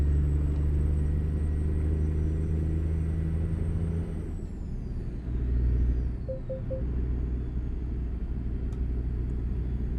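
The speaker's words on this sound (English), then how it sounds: "just the sound of the Detroit Diesel sounds amazing" A Detroit Diesel semi truck engine in a trucking video game, a steady deep rumble with a high whine that drops as the gears shift midway, then settles back into a constant drone at cruising speed.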